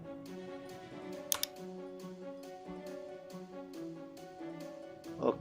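Keys on a computer keyboard are tapped in a quick, light series of clicks, close and fairly quiet, with a couple of sharper taps standing out.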